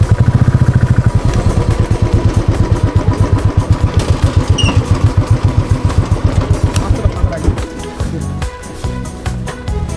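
A motorcycle engine running close by in a village, a loud rapid chugging idle with steady putter and some mechanical clatter, easing slightly toward the end.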